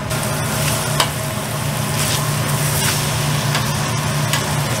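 Burgers sizzling slowly over moderate heat on the grill at the Burger Shack in Port Isabel, Texas: a steady, loud, continuous frying hiss with faint clinks and background restaurant hum, no talk.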